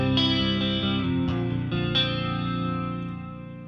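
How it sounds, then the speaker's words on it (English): Sustained electric guitar chords with a shimmering, wavering stereo chorus effect placed before reverb, ringing out and slowly fading. "So I'm going to add a stereo chorus in there."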